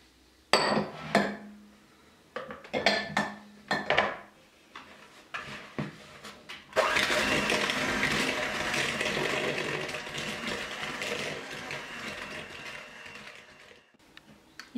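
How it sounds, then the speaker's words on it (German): Soft butter beaten with sugar for a chocolate waffle cake: scattered clinks and taps of utensils against a bowl, then a steady, close whirring mixer noise with a gritty texture that runs for several seconds. "dann wird die Butter aufgeschlagen mit dem Zucker"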